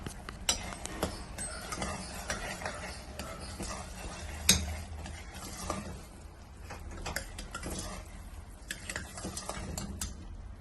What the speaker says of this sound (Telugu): ఇలాచీ పౌడర్, పచ్చకర్పూరాన్ని బాగా చక్కెర పొంగల్ మొత్తం పట్టేలా కలుపుకొని